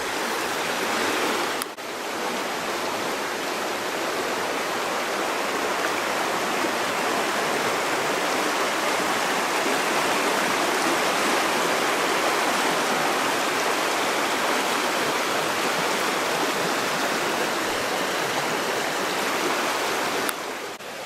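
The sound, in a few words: rushing river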